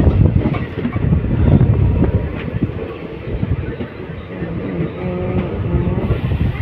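Kanchanjunga Express rolling through the rain between New Alipurduar and New Jalpaiguri: a loud, steady rumble of the carriages with faint wheel clatter, continuous throughout with no voices.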